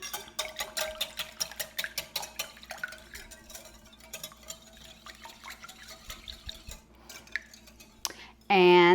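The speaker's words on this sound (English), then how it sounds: "We're just going to mix that together." Whisking oil into a berry donut batter in a bowl: rapid, rhythmic clinks of a utensil against the dish, close and fairly quiet, slowing toward the end before a brief louder burst.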